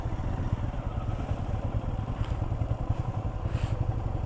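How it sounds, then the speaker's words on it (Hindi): A motorcycle on a slippery monsoon road on a rural ride, its engine chugging in a steady low rhythm with rattly clatter, continuous and close throughout without talk. "बाइक का व्हील भी स्लिप हो रहा है।"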